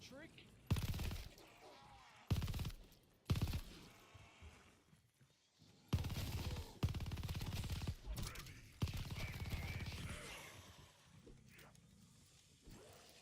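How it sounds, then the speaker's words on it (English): Video game gunfire crashes out in several loud bursts of rapid shots with quieter gaps between them, and a voice speaks briefly among the volleys. "Why did I shoot there?"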